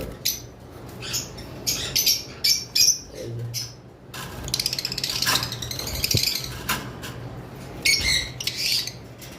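Lovebirds kept on a bird farm give bursts of sharp, chattering squawks and chirps, close and fairly loud, coming in irregular clusters with brief pauses between them.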